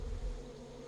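Wasps buzz steadily around a wasp nest in the video game Far Cry 5, a close, continuous insect drone heard alone.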